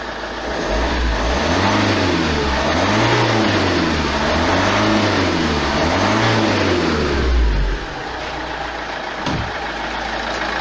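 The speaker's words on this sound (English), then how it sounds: "we'll give it a bit of a rev, and then we'll check the min-max values" A 2008 Vauxhall Astra 1.9 CDTI diesel engine with a DPF pressure sensor fault is revved repeatedly, its loud close drone rising and falling in a regular wavering pattern for about seven seconds before settling back toward idle.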